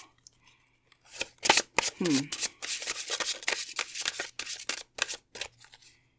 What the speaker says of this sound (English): Thank you for your patience as I shuffled pile 2.